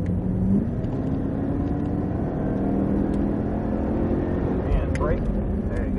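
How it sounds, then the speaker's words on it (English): A car accelerates down a racing straightaway, its engine a steady, loud rumbling drone with rising harmonic tones, heard close and continuous throughout. "Squeezing on the throttle, accelerating down the straightaway"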